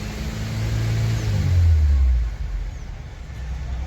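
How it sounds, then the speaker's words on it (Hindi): A Suzuki SX4 petrol engine, just repaired after a fuel pump fault, is revved once, rising to a loud low roar for about a second before dropping back to a steady idle. "हल्का रेस दो, रेस करो और करो।"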